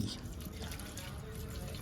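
Water runs steadily from a tap in a continuous broadband rush, close and fairly loud for the whole stretch.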